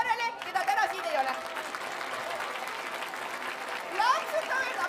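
Audience applause at a children's song festival in Tallinn, dense sustained clapping from a large crowd with voices and a few high whistle-like sounds mixed in.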